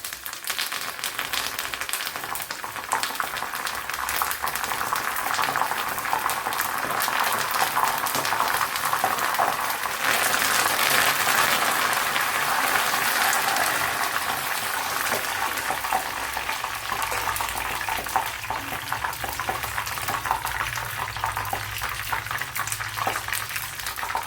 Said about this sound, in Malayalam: ഇതിലേക്ക് കുറച്ച് കറി ലീവ്സ് കൂടെ ഇട്ടൊന്ന് ഫ്രൈ ചെയ്തെടുക്കാം